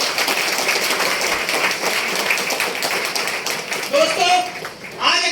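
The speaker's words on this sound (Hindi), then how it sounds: "एक बार जोरदार तालियां" Enthusiastic applause from an audience at a business seminar, loud sustained clapping through most of the clip before a voice starts speaking near the end.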